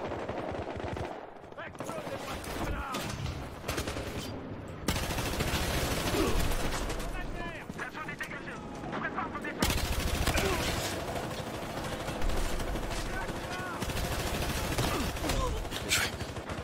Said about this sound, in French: Putain d'échange de tirs incroyable